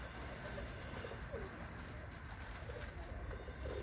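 A racing pigeon returning to its loft in Elbląg after a race from Budapest, with faint cooing against a quiet outdoor background.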